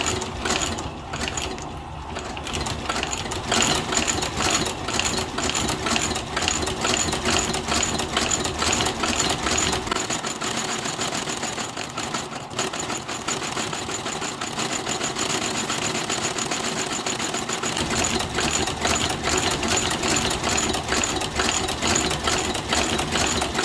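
A sewing machine stitches custom cowboy motorcycle boots, giving a continuous close mechanical whirring and rapid clatter that runs steadily for over twenty seconds without any voices.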